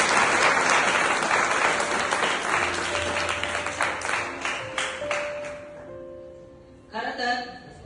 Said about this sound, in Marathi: त्यांच्यासाठी एका जोरदार टाळ्या.